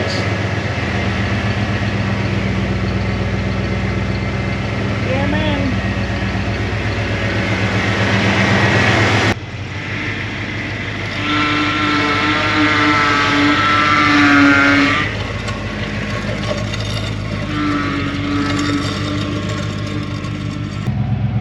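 A rough 1990 Ford F250 pickup truck engine runs steadily close by, revving up and settling back, with a brief spoken remark partway through.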